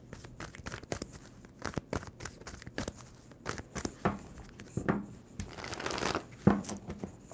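Tarot cards shuffled by hand in a run of quick, crisp riffling bursts and rustles, with louder flurries near the end, heard up close with no talk.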